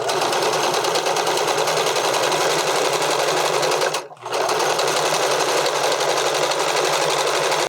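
A sewing machine stitches a bodysuit at a mid-range stitch length, running loud and steady for several seconds, pausing briefly near the middle, then resuming without any voices.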